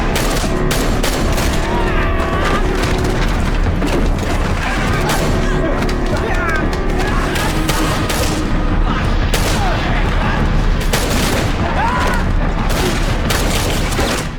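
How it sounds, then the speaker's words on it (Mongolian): Gunfire from a fierce close-range shootout in a movie, dense bursts and booms of shots layered with score and effects, loud and continuous throughout with overlapping impacts. "Орийн зайнаас ширүүн буудалцсны эцэст суман дууссан Ян үлдсэн цэргүүдтэй гардан тулалдана."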